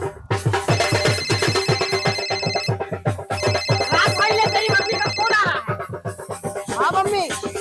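A phone ringtone repeats steadily through a dialled call, loud and close, with its electronic pattern running under overlapping speech and ending as a voice answers.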